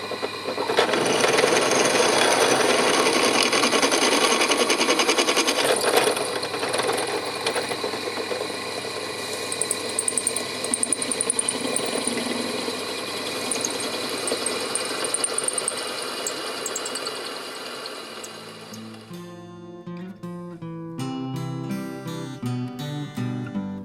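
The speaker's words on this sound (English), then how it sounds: "what I can now do is drill the second hole" A power drill runs steadily and loudly for most of the stretch while boring a hole for a steel fruit cage on an allotment, then gives way to sparse, varied knocks and tonal clatter near the end.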